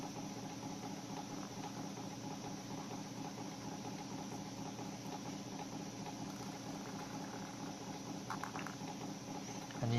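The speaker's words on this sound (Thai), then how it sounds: "ฝนตกน่ากลัวมาก" Heavy rain falling outside, a dense, continuous pattering hiss that stays steady and moderately loud throughout, with no voices.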